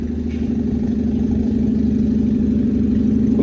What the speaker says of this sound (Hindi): फुल फटी हुई आवाज़ है गाड़ी की, फुल फटी हुई